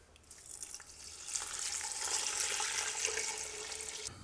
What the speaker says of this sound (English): we're gonna add some water in here too to bring the level up a little bit